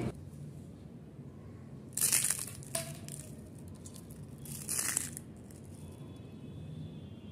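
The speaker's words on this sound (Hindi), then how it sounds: "अभी मैं आपको तोड़ करके दिखाती हूँ कि ये कितनी क्रिस्पी बनी हुई है" Two crisp crunching snaps a few seconds apart as a crispy fried poha (flattened rice) chakli is broken, close and fairly loud over a soft background hum.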